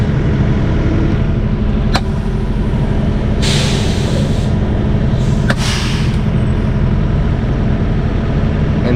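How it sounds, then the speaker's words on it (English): A semi truck idles loudly and steadily while backing up a trailer, its deep engine rumble broken by two sharp bursts of air-brake hiss and a couple of brief clicks. "Quiet because I'm backing up the trailer"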